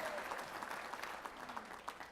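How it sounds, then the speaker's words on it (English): An audience claps in sustained, moderately quiet applause with faint voices mixed in, the clapping thinning slightly toward the end. "I've never heard such a robust applause for the gender unicorn."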